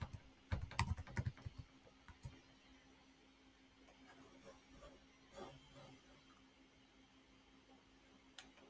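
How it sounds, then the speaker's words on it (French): Quiet typing on a computer keyboard, a quick burst of clustered key taps at the start followed by sparse, faint keystrokes over a low hum. "je tape Entrée"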